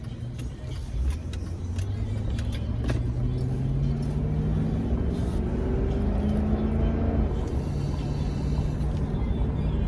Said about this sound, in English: So good to have my car back